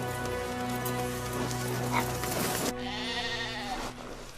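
Several sheep bleat loudly and close together, their wavering cries overlapping and continuing throughout.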